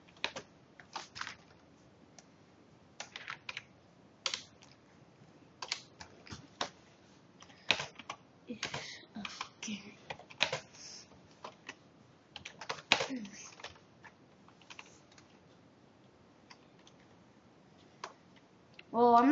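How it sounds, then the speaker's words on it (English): Rapid, irregular clicking of a computer keyboard being typed on, in bursts of keystrokes with short pauses, fairly close and clear, with faint background voice-like sounds. "You type it in."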